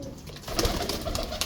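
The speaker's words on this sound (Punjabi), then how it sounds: "ਇਹ ਤੇ ਇੱਕ ਮੇਰਾ ਜ਼ਿੱਦੀ ਕਬੂਤਰ ਹੈ" A Jonsra pigeon, a prized and stubborn bird, coos softly nearby in a few short, repeated throaty notes, with no talking.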